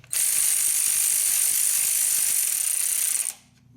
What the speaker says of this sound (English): Now I know that this air ratchet can go 30 foot-pounds or pound-feet